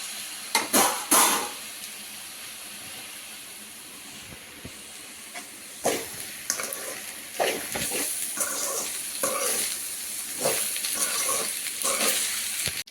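Paneer fried rice with soy sauce stir-fries on high flame, a continuous hissing sizzle punctuated by sharp clanks and scrapes of the spatula against the pan, loud and close with no talk.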